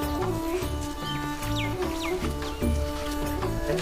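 Chickens cluck close by in short, repeated bursts at a traditional village house in Sukma, India, with a few higher squawks mixed in over steady background noise.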